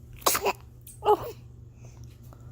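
A baby sneezes twice, with a sharp burst and then a second, softer sneeze about a second later, close up and with no talking.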